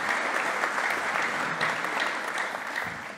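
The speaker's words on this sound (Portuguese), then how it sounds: "vamos aplaudi-los" Sustained applause fills a hall at a business forum with Brazilian minister Paulo Guedes: many hands clapping in a thick, even wash that fades slightly toward the end.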